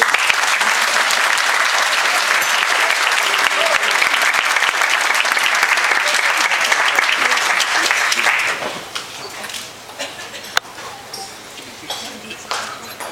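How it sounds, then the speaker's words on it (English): Loud, dense applause from wedding guests at a best man speech, sustained for about eight seconds before dropping off sharply to scattered claps and room noise. "How about another nice big round of applause for Lauren?"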